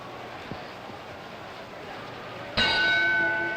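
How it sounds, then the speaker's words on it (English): After a low hum, a single loud boxing ring bell strike signals round 10 of a light heavyweight title fight, ringing with a bright, sustained metallic tone. "And there's the bell, round 10"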